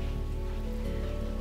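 Steady rain falling on surfaces near a small forest cabin in autumn, a dense, even patter of drops with no pauses, fairly soft and continuous with no voices.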